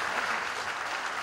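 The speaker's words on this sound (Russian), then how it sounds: "И аплодисменты, конечно, его сопернику" Applause fills a tournament hall for a fighter, a steady, dense wash of clapping from the crowd that holds evenly throughout.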